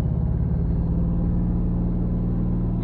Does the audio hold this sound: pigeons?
no